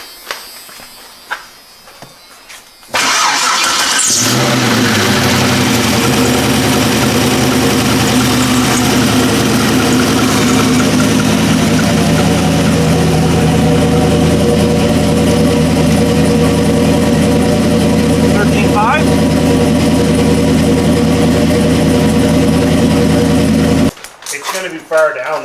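A car engine starts and settles into a loud, steady idle that runs unbroken for about twenty seconds before cutting off.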